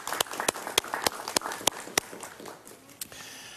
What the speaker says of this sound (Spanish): somos pocos y aplaudimos tibiamente